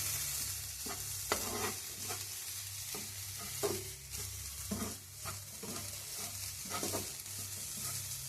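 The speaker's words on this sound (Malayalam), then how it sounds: "ഒരു മിനിറ്റ് ഈ മിക്സ് ഒന്ന് നന്നായിട്ട് ഇളക്കി കൊടുക്കാം" A masala mix with coconut being stirred in a pan, soft rhythmic scrapes and light sizzling repeating every second or so over a faint low hum, close but quiet, no voices.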